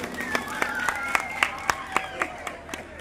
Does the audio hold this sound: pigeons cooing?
no